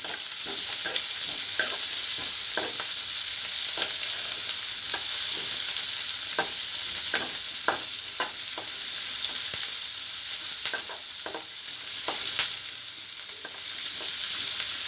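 Chickpea masala sautéing in a pan with white chickpeas, a steady close sizzle under repeated sharp stirring scrapes and clicks, no voices.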